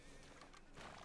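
A mare neighs in the Red Dead Redemption video game, giving a short, quiet whinny mixed with a little hoof clip-clop. It lasts about a second.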